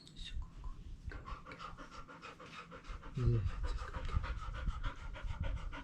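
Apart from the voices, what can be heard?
Labrador panting while going into labor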